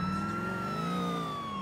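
Police car siren in the video game GTA IV, a steady electronic wail sliding slowly in pitch, loud and close with engine drone beneath, sounding continuously with no talk.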